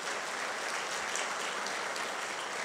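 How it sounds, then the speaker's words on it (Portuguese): A church congregation breaks into dense, sustained applause, steady and fairly loud throughout with no voices above it. "pode aplaudir o Senhor, irmãos, pode aplaudir o Senhor."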